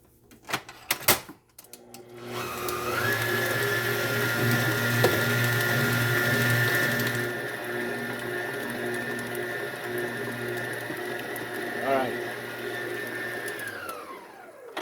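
A blender whirs steadily for about ten seconds while mixing sweet potato pie filling with milk, after a few clunks at the start, then spins down to a stop.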